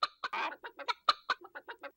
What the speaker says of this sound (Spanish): ¡Una gallina! ¡Una gallina! ¡Acertaron!